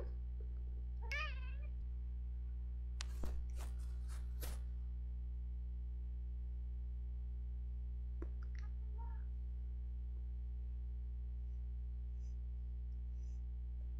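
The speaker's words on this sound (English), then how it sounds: "Can you hear her tiny, quiet little meows too?" A cat lets out a few tiny, quiet meows and soft chirps, spread across a long stretch over a low steady mains hum, with a few sharp clicks between them.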